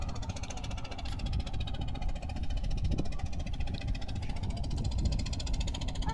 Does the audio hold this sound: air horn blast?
no